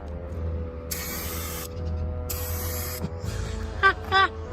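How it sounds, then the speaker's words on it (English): A spray paint can hisses in two sustained bursts onto a cheap Porsche rat rod build, followed by a few short clicks and squeaks. "Spray painting the Porsche"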